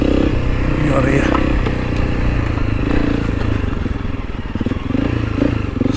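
A Honda CRF300L rally dirt bike climbs a rock ledge beside a big gum tree, its single-cylinder engine loud and close, throttle blipping as the tyres clatter and scrape over rock, with a voice speaking over it.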